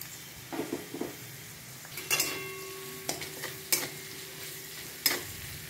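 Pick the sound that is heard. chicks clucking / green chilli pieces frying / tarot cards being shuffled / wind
green chilli pieces frying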